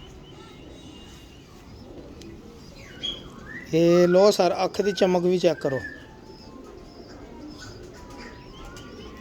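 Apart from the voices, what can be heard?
pigeons cooing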